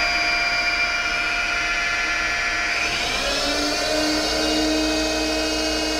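Spindle motor on an Emcoturn 140 CNC lathe, fitted with an encoder and motor adapter plate, whines steadily at about 1,000 RPM, then its pitch climbs smoothly as the speed is raised, holding a close, even tone with no talk.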